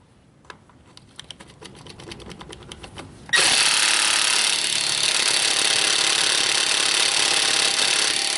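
A Harbor Freight Earthquake XT 1/2 inch drive impact wrench starts with a few light clicks and taps, then bursts into a loud, steady hammering whir that runs continuously to the end, close and alone with no talk.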